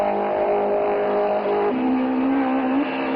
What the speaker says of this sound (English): Every time the light flashes, the engine is on the rev limiter.